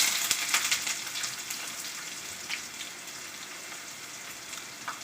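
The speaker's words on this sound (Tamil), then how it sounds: "நறுக்கி வச்ச வெங்காயத்தை வந்து அதில் போட்டு நல்லா வதக்கணும்" Chopped onions drop into hot oil with fennel seeds, cinnamon and bay leaf: a close, steady sizzle and crackle with a few sharp spits near the start, easing slightly as frying continues.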